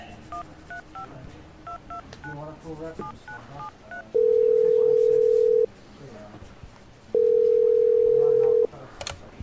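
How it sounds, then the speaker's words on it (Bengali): Keypad tones as a telephone number is dialed, followed by two long, steady ringback tones, each lasting about a second and a half and separated by a pause, loud and clear with faint background noise. "ঠিক 5টা বাজার আগে সে ওই নাম্বারে ফোন লাগায়"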